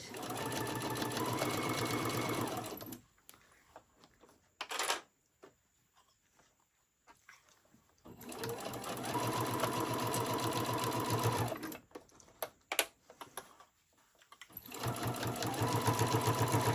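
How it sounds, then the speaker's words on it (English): A sewing machine stitches the side seam of a ruffle-trimmed tote bag in three steady, loud running bursts separated by quiet pauses with small handling sounds. "I like to start on my side seam when I'm sewing this"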